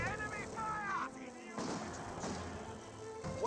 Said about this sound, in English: Ooh, double mortar hit there, and that may have took out, destroyed the gun as well.